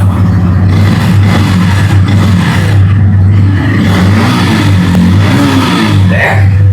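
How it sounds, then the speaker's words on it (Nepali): A 2023-model motorcycle engine, either an Apache RTR 160 4V or a Yamaha FZS V3, runs loud and close with a steady low rumble and slight rises in pitch as it revs. "इन्जिनको साउन्ड पनि सुनौँ।"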